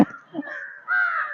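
A crow gives two harsh caws close by, the second drawn out and louder.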